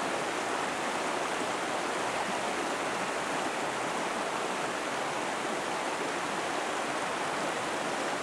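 Steady broadband rushing of the river along the Zion Riverwalk, a continuous wash of flowing water that stays even and loud throughout, with no voices.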